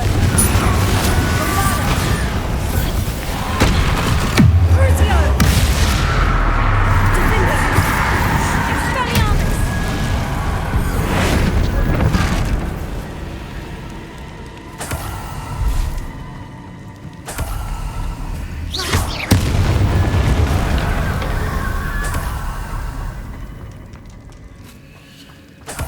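Confringo spell explosions in Hogwarts Legacy, a series of loud booming blasts and crashes over a rumbling combat backdrop, with spells shouted between bursts and intermittent sharp impacts across the stretch.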